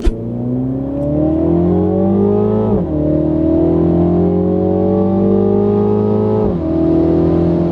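Loud, close cabin drone from a 2019 Mini John Cooper Works at motorway speed, a steady engine hum with rising and falling tones through gear changes, laid over tire roar and no talking.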